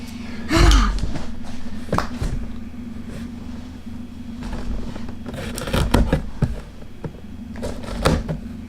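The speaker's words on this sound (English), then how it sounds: "We need to cut it first." Packaging on an Arrma RC car box, a Talion, being cut open: scraping, rustling cardboard and plastic handling in uneven bursts, with a sharp swish near the start and several quick cuts later, close by.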